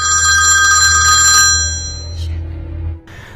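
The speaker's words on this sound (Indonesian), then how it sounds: "Telepon ibunya pun berdering dan si Charlie langsung menutup teleponnya." A telephone rings loudly in a film scene for about a second and a half with a steady electronic tone over a low hum, then fades into quiet room sound.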